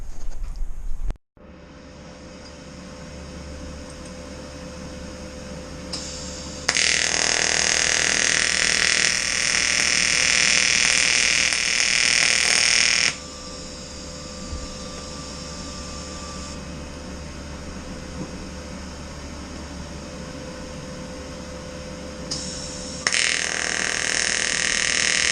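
Metal for Countach vents is welded in long bursts of harsh, loud crackling hiss that start and stop abruptly, with a quieter background hum between the bursts.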